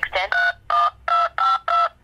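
A telephone keypad sounds a quick run of six loud dual-tone beeps as a number is entered. The short, evenly spaced beeps come close up with no voices.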